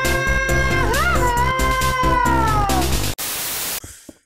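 A cat meows in the Minecraft Bedwars video game, one long wavering caterwaul with a rising bend, loud and alone, cut off by a short burst of harsh static.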